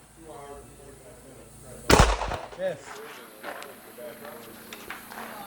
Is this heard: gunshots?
yes